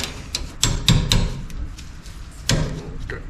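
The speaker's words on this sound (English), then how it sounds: "I'm hammering on a Snap-on socket." A hammer strikes a Snap-on socket fitted to a Mac ratchet during drum brake work on a 1963 Chevy K10 4x4, giving several sharp metallic knocks spaced irregularly and close by, without speech.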